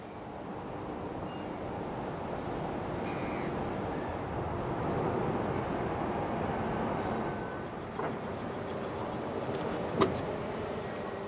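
Railway wagons shunting on the lower deck of a ferry at Sassnitz ferry port, a steady, continuous rumble with faint metallic squeals and a sharp clank near the end.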